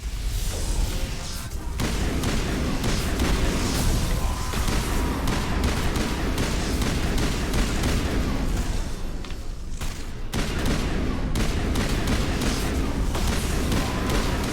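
Repeated explosions and booming blasts in Mass Effect Legendary Edition, loud and continuous, with deep rumbles layered under crackling gunfire and two brief drops in the noise.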